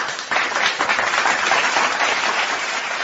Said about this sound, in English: Gretchen, so everybody give her a round of applause.